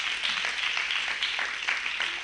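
A church congregation applauds in a sustained, dense burst of many hands clapping, steady and moderately loud for a couple of seconds without clear speech over it.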